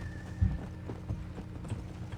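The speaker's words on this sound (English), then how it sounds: "What do you think about riding horses, man? You like riding horses in the game?" Horse hooves clip-clop faintly in Red Dead Redemption while riding, a few soft irregular hoofbeats under low game ambience.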